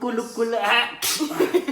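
A single short, sharp sneeze bursts out at close range, with voices speaking around it.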